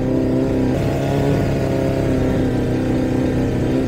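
A car engine revs hard and steadily, a loud mid-pitched drone holding close and constant throughout with no talk over it.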